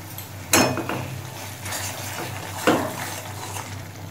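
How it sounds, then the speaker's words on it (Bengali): Spice paste with salt being stirred and fried in a pan for a prawn and soybean kofta curry: a steady close sizzle with two loud scraping strokes of a spatula against the pan. "নুন দিয়ে ভালো করে মিশিয়ে নিয়েছি, আরো কিছুক্ষণ কষিয়ে নেবো মশলা"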